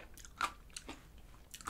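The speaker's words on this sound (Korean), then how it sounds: "요 크런치볼 자체도 옥수수 크런치볼이어가지고 요거 씹을 때마다 되게 고소한 그런 맛이 느껴지거든요" Crunchy corn crunch balls in Baskin Robbins ice cream are chewed up close, with a few distinct crisp bites and crunches between quiet pauses and no talk.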